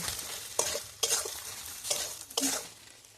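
Cumin powder and turmeric fry in hot oil with a soft steady sizzle, broken by several sharp scrapes and clacks of a spoon stirring the pan.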